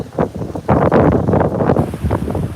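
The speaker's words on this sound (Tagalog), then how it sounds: "Napakalakas na hangin kasi may bagyo ngayon" Gusty storm wind roars and flutters against the microphone in uneven surges, loud and close, with no talking.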